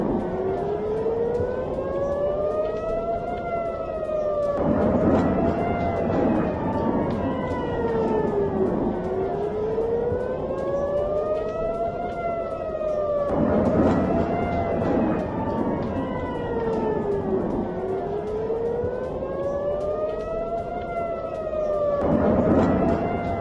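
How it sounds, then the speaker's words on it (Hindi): Air raid sirens in Tel Aviv during an Iranian attack wail continuously through the night, rising and falling in long, repeating sweeps roughly every few seconds, loud and steady throughout. "तेल अवीव में पूरी रात ये देखिए एयर रेड सायरन बज रहे हैं।"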